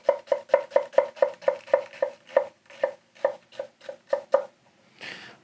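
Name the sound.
Tsunehisa santoku knife chopping an onion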